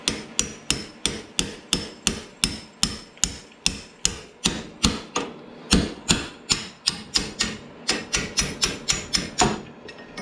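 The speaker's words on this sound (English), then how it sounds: "Got my brass hammer." A brass hammer strikes a steel shaft on a stump grinder in a steady run of roughly thirty sharp, close, evenly spaced metallic taps, each ringing briefly before the next, with no voices.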